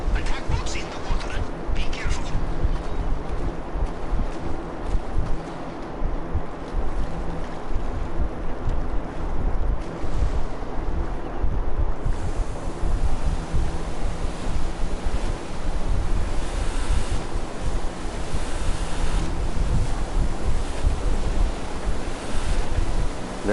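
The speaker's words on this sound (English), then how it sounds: "Attack boats in the water. Be careful." Attack boats cut across open water in a crime video game, a loud, continuous roar of surf, wind and engines that persists throughout with a voice talking over it.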